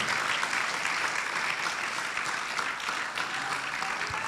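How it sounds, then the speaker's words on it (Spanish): A church congregation claps loudly and steadily in dense, continuous applause that fills the room evenly from start to finish, with no voices rising above it. "Dele ese aplauso fuerte al Señor."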